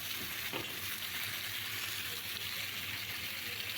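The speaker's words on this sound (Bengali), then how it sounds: "পুরোটাই একসঙ্গে ভাজতে হবে, পেঁয়াজ আর লইটা মাছ দুটোই।" Onions and loitta fish (Bombay duck) fry together in a pan, a dense, even sizzle close up that holds steady throughout with a faint stir near the start.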